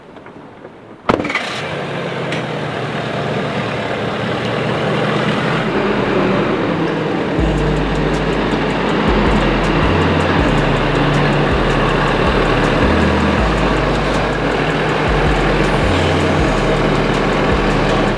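A diesel work truck cranks and fires up, then idles and revs as it pulls into a shop, a loud, close engine rumble with shifting low throb and rising, falling revs throughout.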